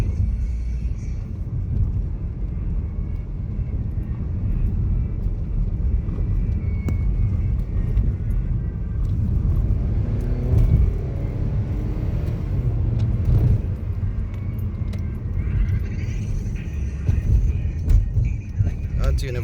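A car drives east along a bumpy city street, rumbling low and steady with occasional knocks and rattles. Someone talks over the noise.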